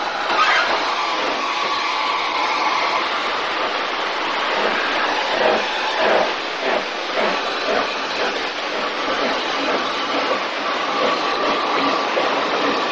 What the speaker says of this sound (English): we see a North British passenger 440 of the Scott class running round her train